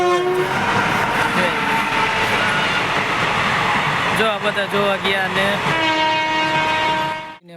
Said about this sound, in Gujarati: ટ્રેનને આવવાનો ટાઈમ થયો હોય છે